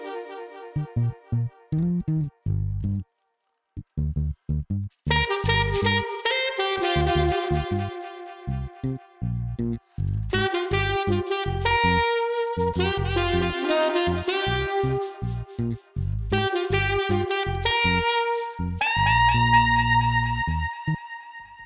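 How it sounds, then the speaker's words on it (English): Dub-style tape echo on a musical mix, switched in and out by hand so repeats throw and trail off between stop-start phrases; steady, loud, no voices. "try turning the echoes on and off to simulate a manual throw that's common in dub genres"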